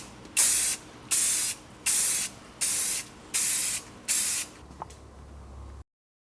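Six even bursts of spray paint hit a freshly welded subframe top brace during a WiseFab V2 install, each about half a second long with short pauses between, close and clear with no talking.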